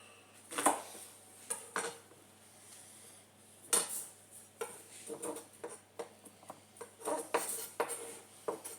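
A knife cuts onions in half on a chopping board, giving a series of close knocks and scraping taps of varying strength over low background noise, with no one speaking.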